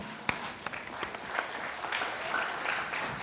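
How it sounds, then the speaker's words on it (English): Audience applause at an annual wellness meet, a room full of clapping with a few sharp individual claps at the start before settling into steady, moderately loud applause. "Big round of applause for us."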